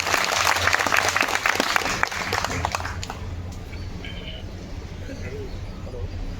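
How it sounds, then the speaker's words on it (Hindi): Crowd at an outdoor protest over a power outage in Noida claps to welcome a speaker, a dense burst of applause in the opening seconds that fades into background murmur and distant birdsong. "ताली बजाकर स्वागत करें।"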